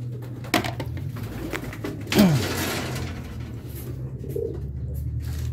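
Racing pigeons penned overnight in a transport truck coo softly above a steady low engine or fan drone, with a brief clatter partway through.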